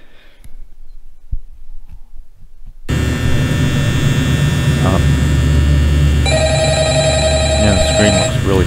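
Low game hum swells after a quiet opening in Five Nights at Freddy's, then a telephone starts ringing in a steady electronic tone over that drone for the last couple of seconds.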